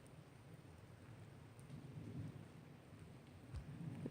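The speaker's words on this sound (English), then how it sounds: "It's just drizzling just a little bit, but not too bad at all." Light drizzle falls steadily in a foggy forest, a soft continuous patter that stays faint and even with a slight swell midway, no voices over it.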